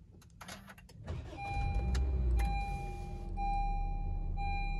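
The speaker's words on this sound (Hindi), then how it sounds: "सबसे पहले आपने ब्रेक पे पैर रखना है, उसके बाद आपने इंजन स्टार्ट स्टॉप का बटन दबाना।" A 2017 Honda Civic's engine fires up with a push-button start after a few faint clicks, cranking briefly then settling into a steady idle hum with a high electronic whine present.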